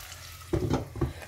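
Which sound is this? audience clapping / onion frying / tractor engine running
onion frying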